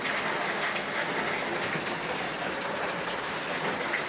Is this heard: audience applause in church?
no